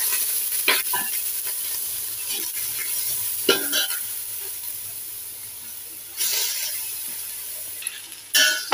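Grated amla is sautéed slowly in ghee with cloves, cinnamon and black pepper, making a soft background sizzle under intermittent spatula scrapes and stirs, close and without speech.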